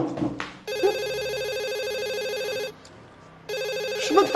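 A landline telephone bell rings in loud, sustained bursts indoors, one long ring followed by a short pause and the start of another, with brief background noise between.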